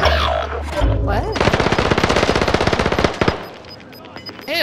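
Rapid machine gun fire in Call of Duty: Modern Warfare, a dense burst of evenly spaced loud shots lasting about two seconds, then a few scattered reports as the firing trails off.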